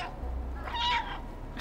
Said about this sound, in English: Can I get a meow meow?